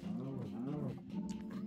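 A cow in the Minecraft video game lets out one long, low, drawn-out moo that fills nearly the whole moment, close and clear with nothing else competing.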